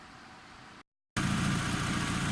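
A turbocharged Mazda Miata engine idles steadily just after its first start, a close, even rumble that drops out in a brief gap and returns louder, with no talk.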